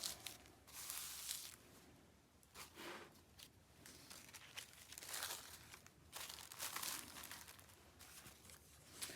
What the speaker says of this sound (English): I fold it like this and then tear it